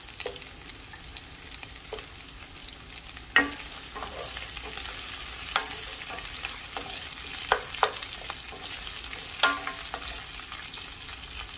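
Garlic and ginger frying in a pan for red curry tuna, a quiet steady sizzle with a sharp utensil knock and scattered stirring scrapes and clicks, close and without speech.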